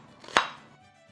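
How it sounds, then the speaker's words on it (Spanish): A single knife stroke through onion and garlic lands on a cutting board, one sharp near chop that fades quickly against a quiet kitchen background. "vamos a picar la cebolla y los ajos"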